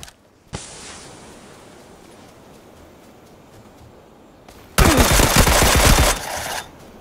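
Rapid gunfire from a Mini 14 rifle in PUBG, a loud continuous burst of shots with a faint high tone in the earlier stretch before it.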